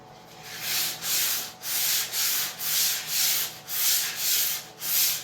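Round sanding discs rub across a wooden cutting board in about eight steady back-and-forth strokes, each a loud close scratchy swell with brief pauses between, and no voices.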